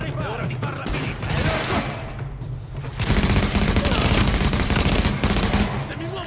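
Video game gunfire in The Division: dense bursts of automatic weapon fire and rapid shots, loud and close, with a heavier, sustained volley in the second half and a voice speaking over it.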